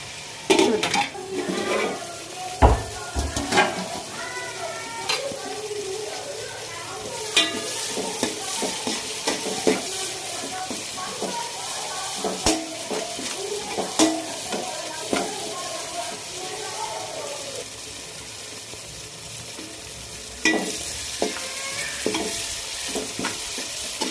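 Cashews stirred into pulao in a pot with a spoon, making steady scraping and clinking strokes against the pot's metal over a soft cooking hiss, continuous and close for the whole stretch.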